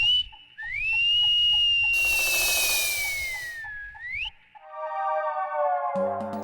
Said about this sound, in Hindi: सीटी किसने बजाई?